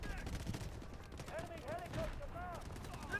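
Gunfire in the shooter game Delta Force Hawk Ops, with rapid bursts and rattling shots under a busy mix of game effects and voices, fairly close.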